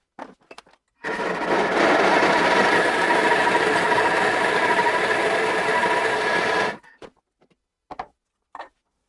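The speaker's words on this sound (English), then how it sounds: "And then grind all the wet ingredients together." A blender grinds wet ingredients with medjool dates for oatmeal banana date bread: a loud, steady whirring motor runs for about six seconds, framed by brief kitchen clatter before and after.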